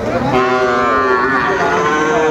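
Sahiwal cattle at a livestock market on a rainy day give a long, loud, close moo that rises and holds a steady tone for over two seconds, with no talk over it.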